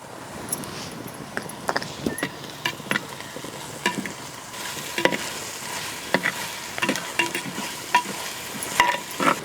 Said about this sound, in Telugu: ఈ అల్లం వెల్లిపాయ పేస్ట్ పచ్చివాసన పోయే వరకు కలుపుకోవాలి